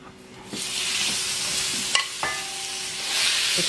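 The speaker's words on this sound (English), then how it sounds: "Like a stir fry." Onions and shiitake mushrooms stir-frying in sesame oil for a Korean kimchi dish: a steady, loud sizzle with utensil scrapes and two sharp clicks against the pan partway through, then the hiss swells again near the end.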